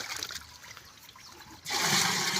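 Water bursts abruptly into a drum in a Punjab village partway through, becoming a loud, steady gushing rush after a quieter stretch of faint background noise.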